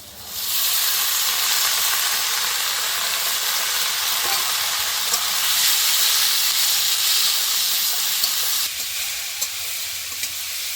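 Cut vegetables, potato and eggplant, poured into a hot pan with onions, erupting into a loud, steady sizzle and hiss that holds strong for several seconds, close and without talk.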